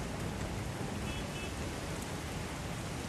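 Dense, steady downpour hisses evenly throughout, a constant wash of heavy rain with no breaks or voices, from a scene in the 2009 Hindi film Luck.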